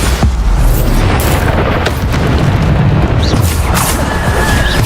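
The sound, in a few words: explosion of Bombarda spell in video game Hogwarts Legacy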